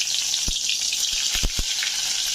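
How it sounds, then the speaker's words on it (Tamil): Stuffed bitter gourd frying in hot oil gives a constant bright sizzle, broken by a few sharp pops and crackles close by. "எண்ணெய் சூடான உடனே இந்த எண்ணெயில் நல்லா ஃப்ரை பண்ணிக்கலாம்"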